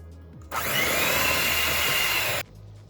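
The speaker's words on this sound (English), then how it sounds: "Now I'm going to start mixing with my hand mixer until I get a silky and slimy texture." Electric hand mixer whirring steadily through choux pastry dough with eggs, a loud continuous motor drone that starts abruptly, holds for about two seconds and cuts off.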